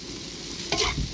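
Rice vermicelli is stir-fried over high flame at a Pudu Road stall, giving a steady sizzling hiss and one brief scrape of stirring near the end.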